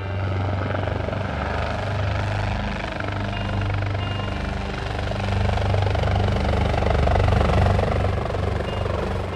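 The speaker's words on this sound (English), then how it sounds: "Fire Rescue Helicopter." A fire rescue helicopter's steady rotor thump and engine drone, loud and close, holding constant throughout with no voices.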